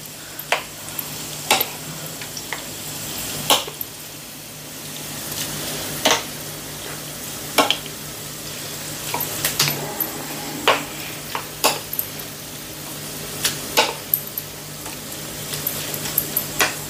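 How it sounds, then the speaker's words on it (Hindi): Korean noodles being stirred in a pan, a soft background sizzle punctuated by sparse, sharp utensil taps and scrapes at irregular intervals, close and fairly loud, without voices. "चलिए मैं आपको इसको मिक्स करके बताती, इसे पूरी तरीके से मिक्स कर लेना पड़ेगा"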